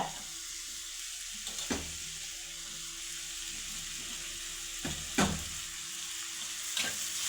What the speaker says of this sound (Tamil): தக்காளி போட்டு வதக்குங்க. நல்லா வதங்கட்டும்.